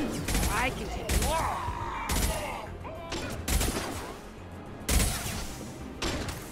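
Rocket fire in a shooter game: a string of about six heavy, punchy blasts at irregular intervals, each with a short booming tail, loud and close over steady game background.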